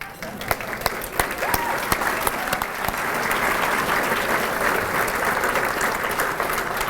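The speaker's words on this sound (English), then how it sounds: "You all deserve a round of applause." Steady applause from a gala audience at a suicide-prevention fundraising celebration, many hands clapping densely and evenly for several seconds, moderately loud and continuous.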